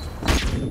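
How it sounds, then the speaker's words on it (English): Flashbang grenade going off in Call of Duty Modern Warfare Remastered, a single sharp blast with a brief crashing burst that quickly fades into a lingering hiss. "That wasn't my flashbang, but it's certainly fucking someone's"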